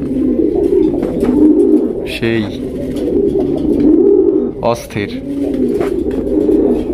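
Pigeons coo steadily close by at a bird market selling Bangladeshi pigeons, a continuous throaty murmur from many birds that carries through the whole stretch while people talk over it.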